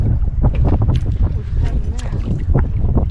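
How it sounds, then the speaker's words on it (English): Wind gusting across open water around a fishing boat in Florida, a steady low rumbling roar that buffets the microphone up close, with scattered faint knocks and splashes underneath. "The wind picked up a little bit."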